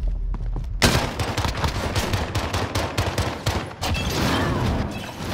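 Rapid, close gunfire fills a Call of Duty Modern Warfare 2v2 Gunfight round, dense overlapping automatic bursts running almost nonstop with brief lulls between volleys.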